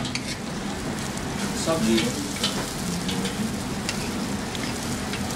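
Khichri with ginger sizzles and frys steadily in a hot pot while being stirred, a dense continuous crackle close up, with a brief spoken word in the middle.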